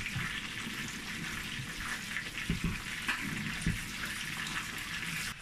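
Tap water runs steadily over a halved tomato being rinsed, with a continuous rushing flow and a few soft knocks and splashes as it is handled under the stream.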